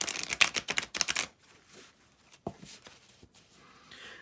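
Tarot cards are riffled and shuffled in a quiet room, a dense crisp flutter of rapid snaps lasting about a second, followed by softer scattered taps and slides.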